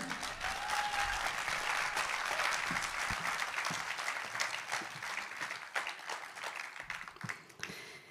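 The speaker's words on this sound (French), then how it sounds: "Merci d'accueillir, s'il vous plaît, avec un tonnerre d'applaudissements, Madame Ophélie Sauger." Applause welcoming a speaker at a French political rally meeting in Sarcelles, a thick crowd of clapping heard from a distance, steady then gradually thinning toward the end, fairly faint overall.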